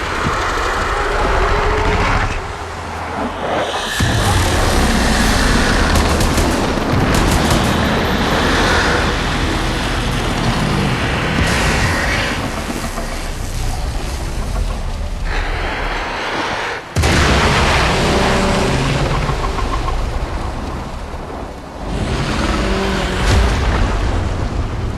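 Explosions and combat in the video game Warframe, a dense, loud roar of blasts and rumbling debris that continues for most of the stretch, with a brief drop near the middle before the din resumes.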